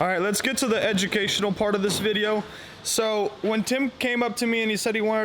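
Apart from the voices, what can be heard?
None of the usual background noises is heard.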